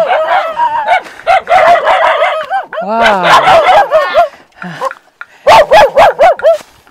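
Dogs bark loudly and close in quick repeated yaps and yelps, some whimpering in between, with a person speaking briefly among the barks.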